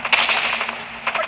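Video game gunfire in Call of Duty Mobile, a rapid automatic burst of shots that is loud and crackling and lasts just over a second.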